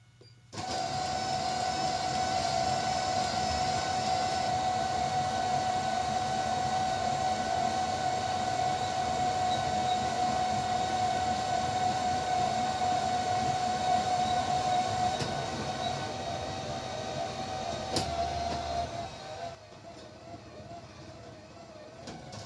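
A bus destination roller blind set turns on its motor, a steady mechanical whine with a constant tone and a faint clatter running unbroken for about twenty seconds, then cutting off to leave quieter background hum.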